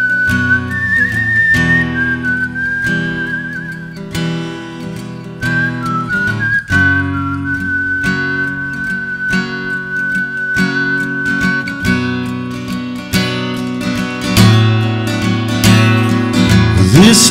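A bright, wavering whistled melody, whistled into a microphone, carries over steady backing music with drums, the whistle sitting clearly on top throughout.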